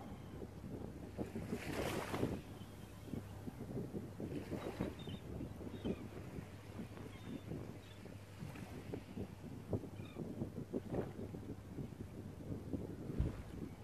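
Waves wash and break continuously against a steady rush of wind buffeting the microphone, with no voices.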